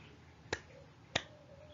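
A pair of crisp, evenly spaced hand claps in a quiet classroom setting, done as a rhythm drill in a primary school science lesson on sound; short bright transients with silence between and no voices.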